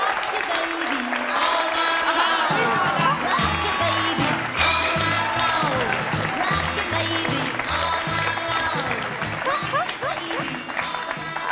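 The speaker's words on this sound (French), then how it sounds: "Je vous demande de l'applaudir très très fort." A studio audience on a French talk show applauds loudly and steadily, dense clapping over music with a thumping beat, as a young twin is welcomed on stage.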